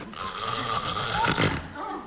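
A person imitates loud snoring, a drawn-out rattling rasp followed by a shorter grunting snort.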